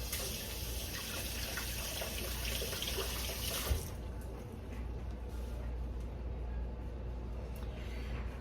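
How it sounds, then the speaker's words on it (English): Tap water runs steadily into a kitchen sink as hands are rinsed, with a constant hiss that drops in level partway through. "Let me rinse my hands."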